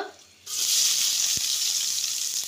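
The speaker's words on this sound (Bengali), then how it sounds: "পাতিল গরম হয়ে গেছে, তেল দিয়ে দিছি। এখন পেঁয়াজ দিব" Onions hit hot oil in a pot and erupt into a loud, steady sizzle that starts abruptly and holds, with a single faint knock partway through.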